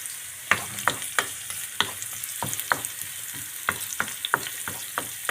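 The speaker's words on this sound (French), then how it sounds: "l'oignon il commence à bien suer là" Onion sweats in a pan with leeks and herbs, giving a soft, steady sizzle broken by frequent sharp clicks and scrapes of stirring, close and moderately quiet.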